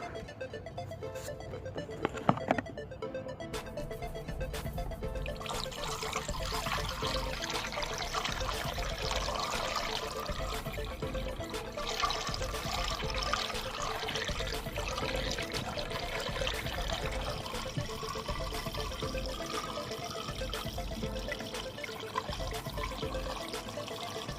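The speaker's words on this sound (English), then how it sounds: "Now we got to refill the antifreeze. Let's fill the tanks back to full." Antifreeze pours into the coolant tank of a 2008 Jeep, a steady, close liquid trickle and gurgle running continuously for over twenty seconds at moderate level.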